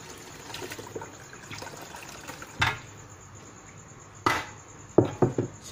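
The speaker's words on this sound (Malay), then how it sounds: "Kita ambil air dia buat kuah." Broth from a pot of cooked potatoes and carrots being ladled out for a curry sauce, with soft liquid sloshing, a few sharp metal scrapes of the ladle against the pot, and a quick run of splashing pours near the end.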